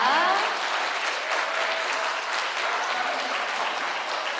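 Steady, enthusiastic applause from an audience at an outdoor estuary moonlight talk concert in Busan, after a brass band performance, a dense even clapping that carries through the whole stretch.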